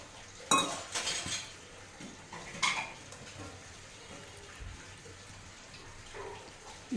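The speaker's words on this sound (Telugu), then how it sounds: "ఇప్పుడు పిండి కలుపుదాం." Wheat flour dough mixed with salt in a bowl for peanut jaggery bobbatlu: soft squishing and kneading with a few sharp clinks of the bowl, close and fairly quiet.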